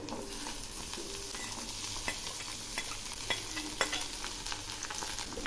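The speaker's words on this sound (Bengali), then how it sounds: "এবার আমি এর মধ্যে দিচ্ছি বড় একটা ঝুরি করা পেঁয়াজ। আর এর সঙ্গে দিচ্ছি ঝুরি করা ওই সবজিগুলো।" Chopped onion and chopped vegetables fry in a pan for a kharkol leaf dish, a continuous loud sizzle broken by scraping stirs and clinks close by, with no talking.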